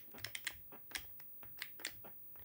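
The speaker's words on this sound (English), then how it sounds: "there's some computer sounds" Quick clicky computer-like taps and beeps in an irregular patter, faint and sparse, with no voices, from the game Sega Zombie Live.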